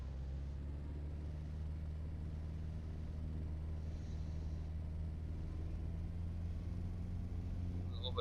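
Aquila light aircraft engine on a takeoff roll, a steady low droning rumble with a constant hum that holds evenly loud and close throughout, with no talk.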